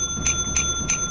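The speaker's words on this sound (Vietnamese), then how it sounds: "Anh đánh chuông đi, đánh chuông là nó ra." A video-game bell chimes three times at an even pace, bright and clear over faint background hum.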